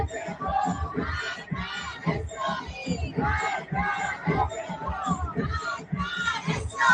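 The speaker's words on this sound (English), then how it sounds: "So I want to hear if they did cheering." A crowd in a played-back video clip yelling and chanting in loud rhythmic bursts, a dense mass of voices that stays continuous throughout.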